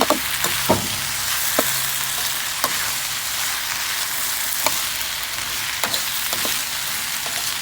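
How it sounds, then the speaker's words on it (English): Vegetables sizzle and fry in a pan for Jamaican home-style steamed fish, a steady hiss broken by occasional sharp crackles and pops, close up with no talking. "So we fry our vegetable"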